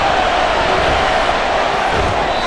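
Stadium crowd noise in Madden NFL 24 during a Buccaneers versus Colts game, a loud continuous roar and cheer building before a big third down.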